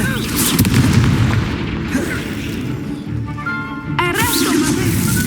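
Confringo fire spell blasts in the Hogwarts Legacy video game, loud booming explosions over dense game noise and music, with a burst near the start and another crackling hit around four seconds.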